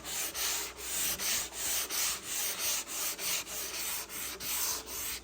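Fine 300-grit sandpaper rubbing lightly along the grain of poplar wood for kitchen cabinets, a steady run of about a dozen close back-and-forth strokes with a soft, even scratchy hiss, no voices.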